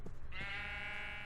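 A video game sheep gives one drawn-out, wavering bleat that follows a few soft thuds and carries on near and clear to the end, with no talking.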